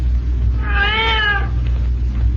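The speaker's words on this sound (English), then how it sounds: "That's one of the cats, all right." A single drawn-out cat meow rises and falls over a low steady background hum.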